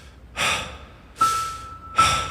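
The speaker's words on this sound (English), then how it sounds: "Oh, breathing, okay, we're breathing" Three loud, close breaths open a live song, each a sharp airy intake or exhale that fades slowly, spaced about three quarters of a second apart, with a faint steady tone under the last two.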